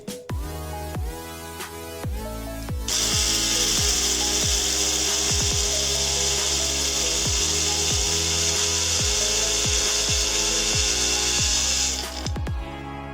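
An electric spice grinder whirs steadily for about ten seconds, loud and continuous, grinding whole spices for garam masala. Rhythmic knocking and scraping sounds come before it, and it cuts off near the end.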